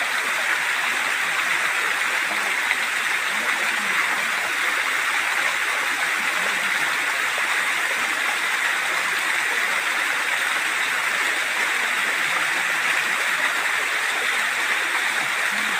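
Clear stream water in the Chakrasila Wildlife Sanctuary flows in a constant, even rushing hiss, close and steady throughout, with no voices or other sounds.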